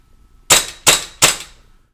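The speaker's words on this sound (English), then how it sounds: "you've got a great piece of equipment that's going to simulate your live fire" A Cool Fire Trainer in a SIG P226 pistol simulates live fire with three sharp, snappy cracks, evenly spaced and close, each fading quickly into silence.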